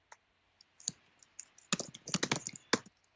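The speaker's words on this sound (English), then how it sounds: "That typing, by the way, is coming across loudly." Typing on a computer keyboard, close and crisp: a few isolated key clicks at first, then a rapid, uneven run of keystrokes clustered toward the end, with no talking over it.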